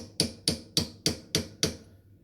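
Six evenly spaced sharp metallic taps drive a washing machine drive part down with a long shaft, each strike close and loud with a brief ringing decay, and no one speaking.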